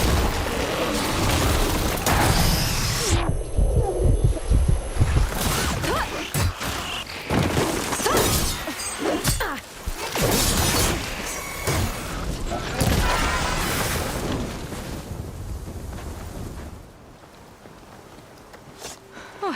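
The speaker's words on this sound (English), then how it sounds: "See those glowing crystals? Takes one hit to detonate." Glowing crystals detonating in the video game Horizon Burning Shores, loud booms and crashing blasts mixed with combat clatter and a bright ringing tone, repeated bursts across the fight with game dialogue over them.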